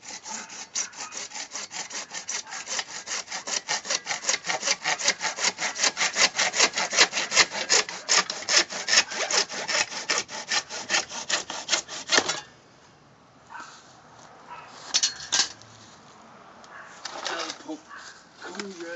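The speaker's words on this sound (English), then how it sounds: "Make sure clean all the burrs off of this inside and outside of the pipe." Rhythmic rasping strokes of a tool deburring the inside and outside of a cut pool pump pipe during a Pentair Superflo pump installation, fast and steady for about twelve seconds, then a few scattered scrapes after a pause.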